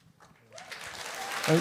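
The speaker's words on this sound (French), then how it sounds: "J'ai pris l'habitude qu'ils applaudissent, là." Applause from a group swells midway and grows steadily louder, a dense wash of clapping that builds toward the end, with a voice speaking over its start.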